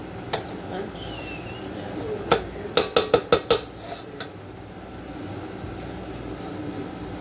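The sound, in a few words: scraping cooked food off a pan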